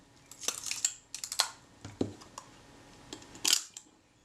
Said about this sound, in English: Now our shutter's fully cocked, the mirror's down in place and the shutter fires.